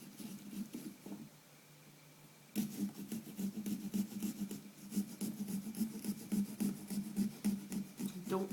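Small saw strokes cut into a pumpkin during carving for a haunted house, a quiet close rhythmic rasping and scraping that stops briefly, then resumes in rapid repeated strokes, with no talking.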